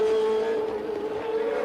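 Formula One race cars at the 1981 United States Grand Prix West, a loud sustained engine whine holding a steady high pitch, close and continuous with no talk.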